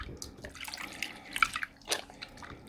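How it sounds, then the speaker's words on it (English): Hands are washed in a bowl of water, giving soft close splashes and dripping trickles, irregular and fairly quiet, with no talking. "now we've got a bowl of water just to show you how to wash it"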